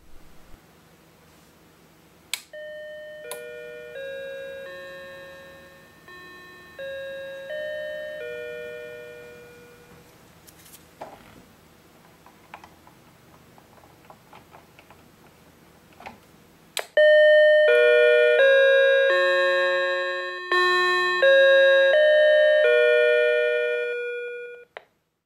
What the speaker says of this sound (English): This demonstrates the range of volume for a different chime setting.